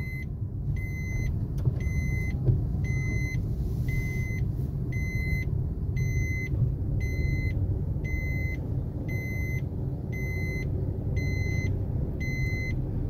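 Car pulling away in third gear during a driving lesson, a low steady engine and road hum under a rhythmic electronic beeping that repeats about every second throughout.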